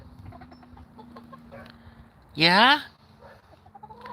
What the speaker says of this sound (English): These are free roam chickens